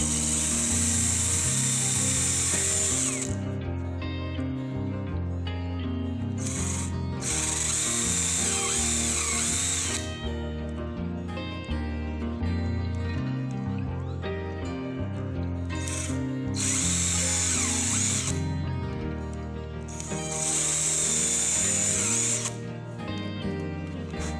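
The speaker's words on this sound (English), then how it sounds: "Next, I drill pilot holes for the first caster." A power drill whines loudly in repeated bursts, starting and stopping as it bores pilot holes into wood for a caster, with a constant hum beneath.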